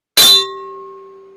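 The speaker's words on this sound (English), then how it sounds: "Hit that notification bell" A single bright bell strike, a sharp metallic clang that rings on with a long, clean sustaining tone slowly fading, loud and alone.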